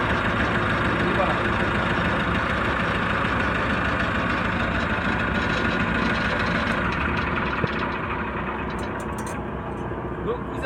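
Engine of a Bandit 990 wood chipper idling with a steady, loud mechanical drone and a faint knocking texture, continuous throughout with no pauses.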